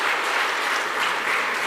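Dense, steady audience applause fills a fashion event showcasing Meghalaya, continuous and close throughout with no voices over it.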